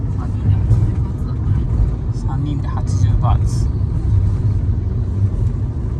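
Taxi ride through Bangkok streets, with a steady low engine and road rumble running throughout beneath a person speaking and a few brief higher clicks and rattles.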